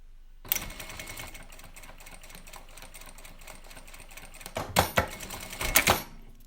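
A JACK A5E industrial sewing machine runs a condensed stitch, a steady, close mechanical whir with rapid needle clatter that starts abruptly and holds, briefly swelling louder in a few bursts near the end.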